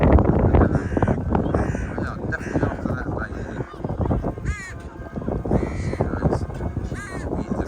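Many crows cawing loudly and repeatedly on a countryside walk, harsh calls overlapping in a noisy flock, while people talk over them.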